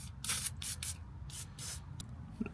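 Penetrating spray hisses in several short bursts onto a car's stabilizer link nut, close up, with brief pauses between the sprays.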